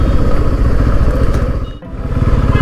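New Bajaj Pulsar F250 motorcycle on a test ride out of the showroom, its engine running loud and close with a steady throbbing note, briefly dipping near the two-second mark before picking up again.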